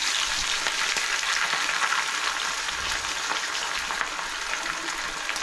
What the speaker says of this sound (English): And it goes right into the hot oil.